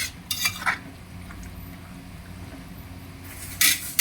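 Bicol Express being stirred in a pan, a utensil scraping and pushing the pork and sides toward the middle, with a few sharp clinks of metal against the pan over a low steady background.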